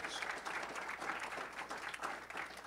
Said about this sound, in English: Let's give Legislator Rath another round of applause.